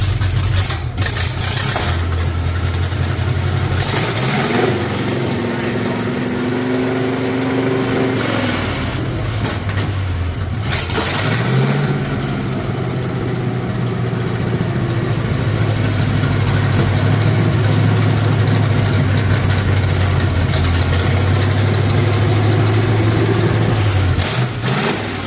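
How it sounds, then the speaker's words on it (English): Turbocharged Farmall Super M tractor engine running steadily and loud, with a low idle broken by several revs that rise and fall, alone without talk. "He just fired up the Super M, turbocharged Super M"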